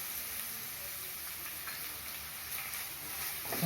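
Onions sautéing with rock salt in a pan for vegetable noodles, a faint, continuous low sizzle with light ticking stirs near the end and no talking.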